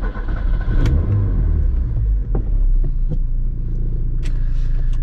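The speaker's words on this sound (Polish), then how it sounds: "Także odpalamy go." A Lancia Montecarlo sports car engine fires up and settles into a loud, deep idling rumble up close, with a few sharp clicks and knocks over the steady engine note.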